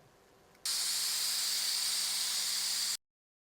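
A pressure cooker vents steam while cooking dal: one loud, steady hiss that starts abruptly, holds for a little over two seconds, then cuts off. Nobody speaks.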